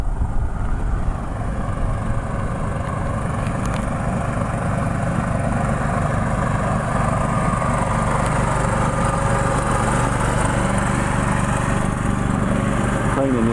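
Vertical mower cutting Bermuda grass putting greens on a golf course, a steady loud engine drone with a gritty blade whir running continuously and close by throughout.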